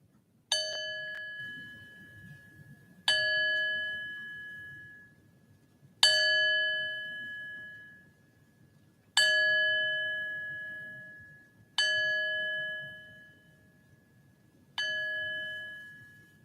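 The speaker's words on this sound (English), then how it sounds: "Sound the bell for our 7 principles." Single bell struck six times at a Unitarian Universalist Sunday church service, each stroke a clear ringing tone that fades slowly, spaced about three seconds apart in a quiet room with no talk.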